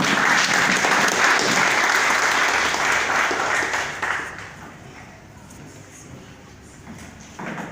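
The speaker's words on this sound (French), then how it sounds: "Veuillez applaudir maintenant ici le DG de IFDP Coaching, Sidibé Abdoulaye." Audience applause at a youth entrepreneurs' debate launch in a hall, with dense steady clapping that fades over a few seconds to quiet, then a short burst of noise at the end.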